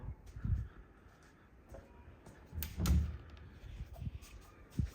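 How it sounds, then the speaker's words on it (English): A hidden door in a finished basement is worked, giving a few dull thumps and knocks at irregular moments, with one louder bump near the middle, heard alone against a quiet room. "more hidden doors."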